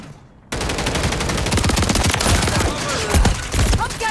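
Shotgun firing slug rounds, a rapid barrage of loud, close blasts that begins abruptly after half a second of quiet and continues densely throughout, with a voice faintly under the shots.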